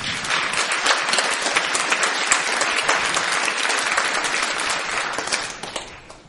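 A theatre audience applauding the technical team during a season presentation, dense sustained clapping from many hands that fills the room evenly and then fades out at the end.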